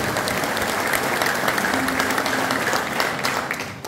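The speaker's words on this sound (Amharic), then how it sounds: "ለእግዚአብሔር ክብር አጨብጭቡለት" Congregation at an Ethiopian church gathering in South Africa applauding to give glory to God: dense, steady clapping from many hands filling the hall, sustained at full strength and easing slightly at the end.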